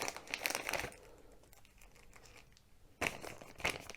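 A plastic resealable bag from a diamond art kit crinkles up close, loud crackling bursts at the start and end with quieter rustling between, and no voices.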